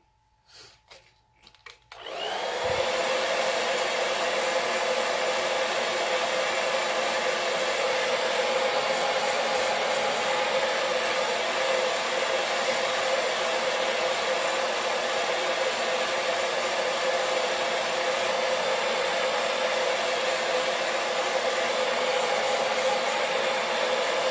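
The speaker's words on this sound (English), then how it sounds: "So I'm going to dry again before we attempt to do the yellow." A hair dryer blows steadily on wet paint on a sunflower welcome sign, switching on after a couple of seconds of quiet handling and then roaring loud and unbroken to the end, with no talking.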